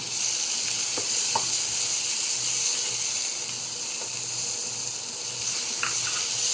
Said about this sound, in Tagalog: Ipapa-brown lang po natin yung baboy.